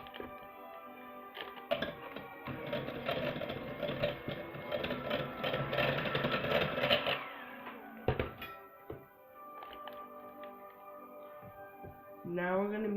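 An egg being mixed into creamy cupcake batter with an electric mixer, a dense whirring drone for about seven seconds, then brief bumps and a lighter run as mixing resumes.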